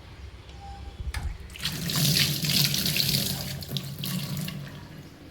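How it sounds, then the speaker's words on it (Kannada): Running tap water gushes into a kitchen sink as a pile of dishes is washed by hand, a steady close splashing flow with occasional clinks and knocks, no talk. "ಇಷ್ಟು ಭಾಂಡೆ ತಿಕ್ಬಿಡ್ತೀನಿ"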